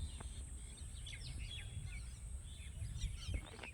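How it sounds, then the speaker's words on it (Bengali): Small birds chirp and twitter in the evening outdoors, quick high calls scattered over a low rumbling background, faint to moderate and without speech. "এবং এখানে দেখুন পাখিরা কি সুন্দর কিচিরমিচির শব্দে ডাকছে।"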